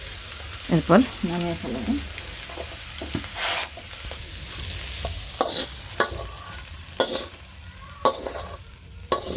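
Snake gourd frying with a pinch of cumin in a village kitchen pan, giving a steady sizzle broken by several scraping stirs, with a brief spoken line near the start.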